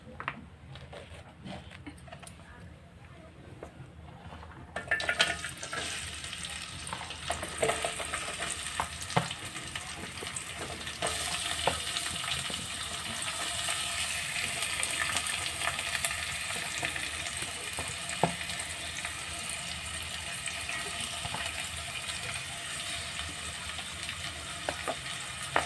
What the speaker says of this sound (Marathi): तेल तापलं की त्यामध्ये कांदा घालायचा.